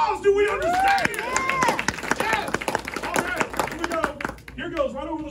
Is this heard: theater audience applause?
yes